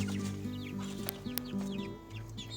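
Young chicks on a farm peeping and clucking close by, with short repeated calls and a few sharp chirps over a low background hum.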